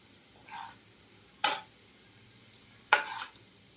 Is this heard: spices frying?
yes